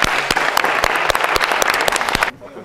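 Loud, continuous clapping from a crowd with scattered sharp claps, lasting a couple of seconds before cutting off abruptly.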